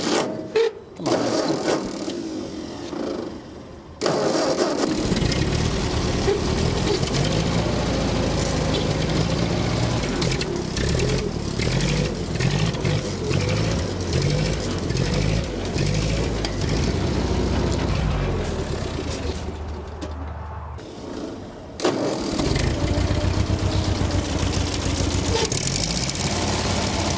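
An old, long-forgotten Ford tractor engine runs steadily for most of the stretch, a loud, continuous mechanical chug that drops out briefly near the start and again toward the end before resuming.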